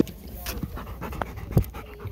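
A puppy pants in quick, close breaths, with a few soft snuffles and a brief voice in the background.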